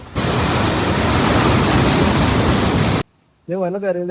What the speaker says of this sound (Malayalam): വെള്ളം അടിച്ച് കയറണ നോക്കി.